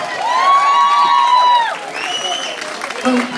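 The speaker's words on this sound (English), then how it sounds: "Give her a round of applause" A comedy show audience cheers and applauds loudly, with a prominent sustained shout or whoop over the crowd that fades into continuing clapping and scattered voices.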